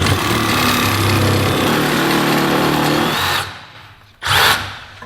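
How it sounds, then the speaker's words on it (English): A reciprocating saw cuts a rubber suspension bush out of a Toyota Sera, a loud, harsh buzzing rattle running for about three seconds, then dropping off, followed by a second brief burst. "I think, is just by using the reciprocating saw."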